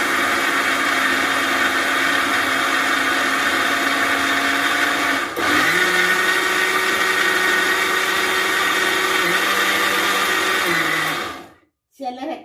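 A mixer grinder grinding rice and urad dal runs as a loud, steady motor whine that shifts pitch once midway, then cuts off abruptly near the end, followed by a short clatter.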